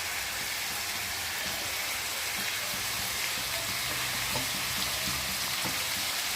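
Vegetables sauté in a pan with a continuous close sizzle and occasional soft stirring scrapes, steady in loudness over several seconds and with no voices.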